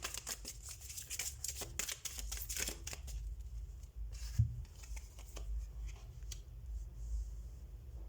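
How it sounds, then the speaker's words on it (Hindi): Tarot cards shuffled close by in repeated riffling bursts, crisp papery flicks and soft slaps that continue steadily, with no talking. "सबसे पहले हम कार्ड शफल कर लेते हैं।"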